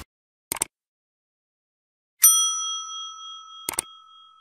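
Notification bell sound effect: a single clear ding that rings out and decays slowly, framed by short clicks before and after, loud and isolated in silence.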